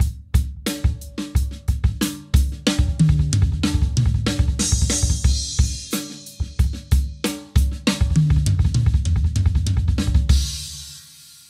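A fast, loud drum fill of rapid sixteenth-note triplet strokes driven by steady double bass drum hits, with cymbals washing over it and ringing out at the end.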